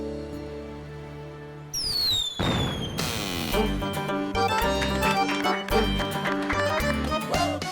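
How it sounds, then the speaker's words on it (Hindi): Children set off firecrackers: a whistling rocket rises, then sharp crackling bursts and loud pops ring out over steady background music. "ये बच्चे अभी से क्या पटाखे दगा रहे हैं?"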